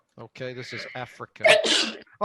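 A sharp, breathy sneeze bursts out loudly after a voice speaks a few words, followed by a brief word.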